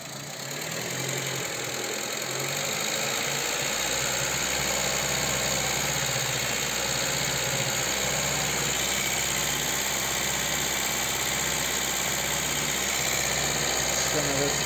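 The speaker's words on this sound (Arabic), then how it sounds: "هذا موتور مريفيزي جديد" A rebuilt Seat Ibiza 1.4 16v engine idles steadily and loudly throughout, with a constant mechanical drone and faint knocking rhythm up close.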